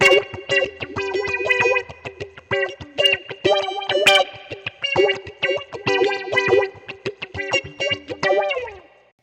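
A choppy, funky electric guitar through an EarthQuaker Devices Grand Orbiter phaser pedal plays rhythmic stabs with a swirling, sweeping effect and some grit, in bursts with brief gaps between phrases.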